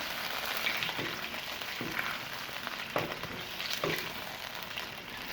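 Chicken karahi fries over a high flame after green chillies and tomato paste go in, a steady close sizzle with scattered pops and a few scrapes of stirring.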